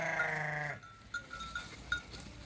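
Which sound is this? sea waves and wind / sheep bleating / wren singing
sheep bleating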